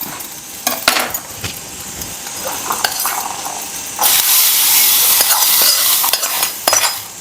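Home-ground garam masala frying in a pan of gravy, starting as a moderate sizzle with stirring clicks and then swelling into a louder, steady hiss with occasional scrapes.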